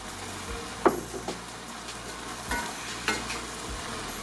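Chopped onions for a lasagna sizzle steadily in a hot pan, with a few sharp scraping knocks as they are stirred and folded over; no voices.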